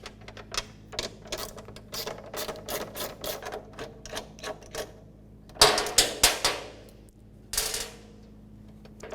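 A ratchet wrench with an 8mm socket loosens bolts on a 2007–2012 Nissan Altima door while the window regulator and motor are replaced. Rapid bursts of close, crisp ratcheting clicks come in uneven runs with short pauses between them.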